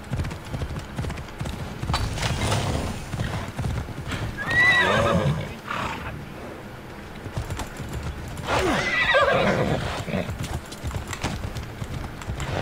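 Horse hooves clip-clopping in the video game Assassin's Creed Odyssey, a steady trotting rhythm with two distinct neighs partway through, close and fairly loud.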